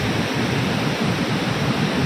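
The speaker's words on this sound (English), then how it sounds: "You should come and visit this waterfall." Pykara Waterfall pours with a steady, loud broadband roar of rushing water, continuous and unbroken throughout, with no voices over it.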